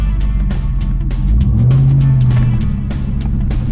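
A car on Mickey Thompson tires revs hard and briefly spins them, a loud, close engine roar with a rising whine in the middle.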